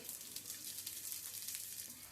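Upwas dosa, a fasting-day pancake, fries in ghee on a griddle with a steady, close, bright sizzle that keeps going without a break and with no voices over it.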